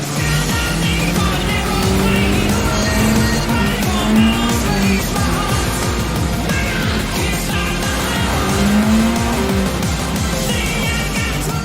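Engine-swapped Mini Cooper racing in Gran Turismo 7, a strained engine note with rising and falling pitch sweeping through gear changes, loud and steady throughout with no talk.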